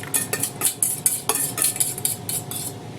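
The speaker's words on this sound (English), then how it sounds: "And we'll stir this together. And then 6 to 8 eggs." Utensil stirring eggs into vegetable pancake batter in a bowl, a rapid run of wet scraping and clinking strokes, close and steady with no talk.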